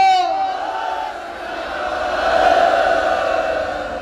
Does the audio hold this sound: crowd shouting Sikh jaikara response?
yes